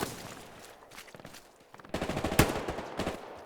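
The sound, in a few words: machine gun fire in video game Hell Let Loose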